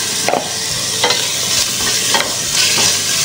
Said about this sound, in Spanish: Ya está caliente y ahí le agregamos el ajo. Hay que se dore para que suelte el saborcito. Y le agregamos la cebolla.